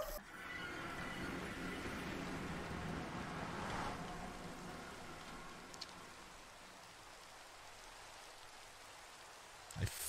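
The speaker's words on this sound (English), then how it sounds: "And it's raining, dude." Rain falls steadily in the Minecraft video game, a soft continuous hiss that fills the whole stretch and thins slightly toward the end.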